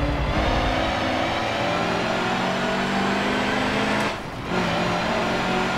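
A racing truck engine in the driving game Forza Motorsport 7 drones loudly and steadily under acceleration, with a brief dip in volume near the end.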